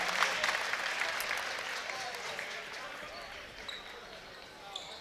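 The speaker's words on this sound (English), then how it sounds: "Jordan Orty comes out and gets a big round of applause from the Crimson fans" Crimson fans in a gym at a girls' section basketball final break into a big round of applause, a dense wash of clapping and crowd noise that is loud at first and then slowly fades.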